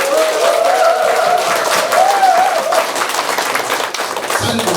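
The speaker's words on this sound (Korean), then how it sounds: "박수 한번 주세요." An audience claps at a cooperative's briefing event, a brisk burst of hands that runs close and fairly loud while a voice carries over it, then breaks off near the end.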